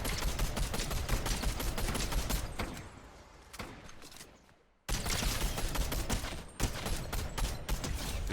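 Rapid assault rifle fire from a Red Eye rifle in a shooter video game crackles in dense, loud bursts, drops to a quieter lull midway, then resumes at full intensity.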